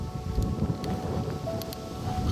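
Wind blowing outdoors on a village walk in rural Hertfordshire, a steady broadband rumble and buffeting against the microphone throughout, with faint distant tones above it.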